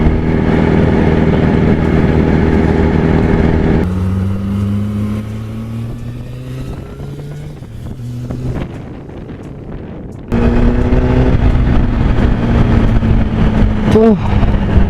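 A Yamaha R1 1000cc superbike with a Yoshimura exhaust roars loudly and close, its engine note climbing and falling through revs, breaking off abruptly partway through, then snapping back in at full volume.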